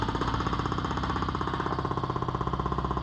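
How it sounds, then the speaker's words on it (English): Rapid, steady hammering of a Toro hydraulic breaker attachment pounding a concrete driveway, loud and close, continuous for the whole stretch with a rough mechanical roar underneath. "I'm using the Toro breaker hammer."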